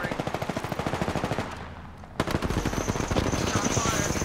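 Automatic weapon fire in Apex Legends: rapid, loud bursts of evenly spaced shots, a brief pause, then another sustained burst that runs to the end.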